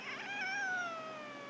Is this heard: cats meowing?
yes